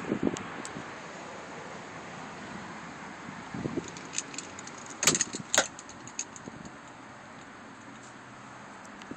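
Keys for a 2009 Mitsubishi Eclipse jangling close to the microphone in a few bright, clustered bursts around the middle, over quiet outdoor wind and rustle.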